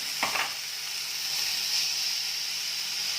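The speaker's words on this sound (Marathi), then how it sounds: "कढई गरम झाली की जी मटकीची मोडं आपण धुवून घेतलेली आहे ती घालायची" Washed sprouted moth beans drop into a hot kadhai with a brief burst of stirring, then a steady, bright sizzle hisses on alone and close throughout.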